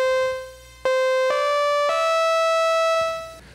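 On a Techno-Beat toy keyboard's synth voice, a bright, buzzy sustained tone steps up through four held notes in a short phrase, then fades out.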